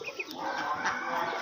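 Birds call at a small home poultry farm with ducks, chickens and pigeons, brief cooing and clucking sounds over a busy background.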